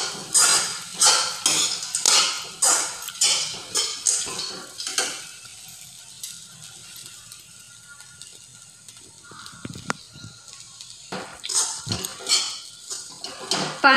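Poha stirred in a pan, rhythmic scraping strokes of a spoon against the metal over a soft sizzle, a quieter stretch in the middle, then the scraping returns near the end.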